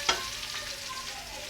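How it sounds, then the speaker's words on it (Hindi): Half a kilo of onions sizzles in hot ghee for a beef biryani, a sharp burst at the drop, then a steady close frying hiss with light stirring and no talk. "इसमें मैंने ये डालनी है प्याज, तकरीबन ये आधा किलो प्याज है, ये मैंने इसमें डाल दिया।"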